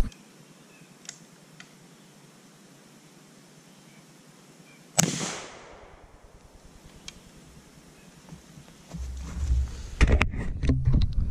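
A single sharp crack from a Traditions .36 caliber Shenandoah percussion rifle, fired outdoors, standing out midway through a quiet stretch of faint ticks, followed by a short fading tail and later some handling noise.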